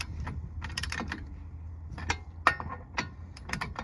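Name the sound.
tightening wheel lug nuts in star pattern on Crown Vic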